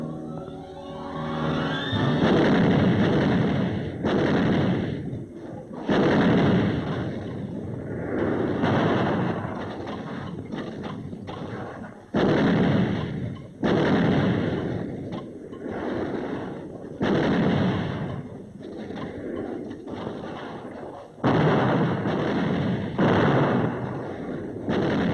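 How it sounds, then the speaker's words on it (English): Artillery fires in battle on Iwo Jima, a string of heavy booming blasts several seconds apart, each rolling into a long, loud rumble. "We called for artillery."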